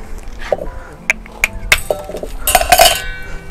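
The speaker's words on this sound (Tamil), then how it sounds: "முதல்ல வந்து ஐஸ் கட்டியை வந்து உடைச்சி போடுவோம்" A block of ice broken up for making milk sarbath: a run of sharp, bright clinks and cracking hits at irregular intervals, close and loud, ending in a denser cluster of crunching strikes.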